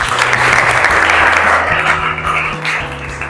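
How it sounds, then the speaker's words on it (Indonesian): Loud, close, continuous clapping fills a classroom during a teaching-performance presentation session, a thick wash of overlapping hands with a low steady hum beneath, easing slightly toward the end. "Silakan tepuk tangan."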